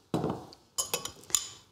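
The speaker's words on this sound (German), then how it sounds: "dann wird einfach nur der gemörserte Majoran in die Butter gerührt" Ground marjoram stirred into butter with a utensil, giving a few quiet clinks and scrapes against the bowl in short, separate bursts, close up and without speech.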